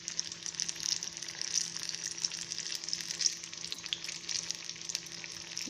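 Plantain fritters frying in hot oil give a steady, close, dense crackling sizzle that runs throughout with small popping bursts and no talk.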